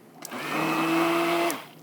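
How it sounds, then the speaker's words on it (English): A countertop blender whirs steadily as it purées herbs, spices and garlic for a balsamic vinaigrette, the motor spinning up, holding a loud even drone for about a second, then cutting off, with no talking. "so you're blending all those herbs and spices and garlic together"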